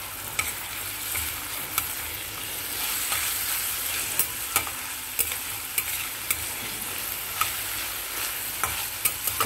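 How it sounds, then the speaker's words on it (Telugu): Onions fry in a pan for a bottle gourd stir-fry, a continuous close sizzle with regular sharp clicks of a spoon stirring against the pan every second or so; no one speaks. "చక్కగా ఉల్లిపాయలు మగ్గనివ్వండి"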